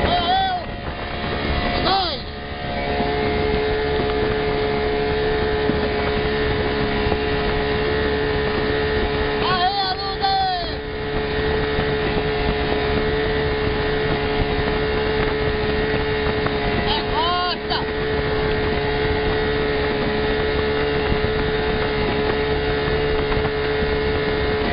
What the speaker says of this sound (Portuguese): Andando o motor.